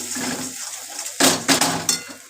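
Mustard and poppy seed paste is stirred in a pan for prawn malai curry, a metal spoon scraping and clinking against the pan over low sizzling hiss, with a few sharp knocks toward the end.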